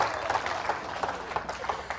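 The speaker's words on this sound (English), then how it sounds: "Give him a round of applause" Audience applause for a dad called up on stage at a talk about laughter and stress, a steady wash of clapping hands held at an even level across the whole moment.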